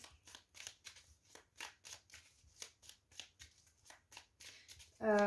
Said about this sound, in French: je vais tirer un peu plus de cartes pour y voir un peu plus clair